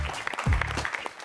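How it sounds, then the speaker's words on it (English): A short burst of studio audience applause for a school team on a televised quiz show, dense steady clapping lasting about a second under a low hum. "But let's still have a round of applause for AIS."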